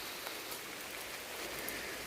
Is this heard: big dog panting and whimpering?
no